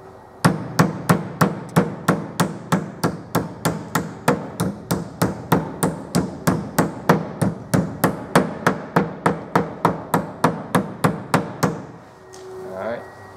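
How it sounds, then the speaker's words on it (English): A hammer taps the caps of a sealed lead-acid battery down flush after acid filling, about thirty sharp, evenly spaced knocks at close range over roughly twelve seconds, followed by a brief quiet rustle. "When you're hammering it in, you don't have to go crazy on it. Just a few taps on each cap should push it down all the way."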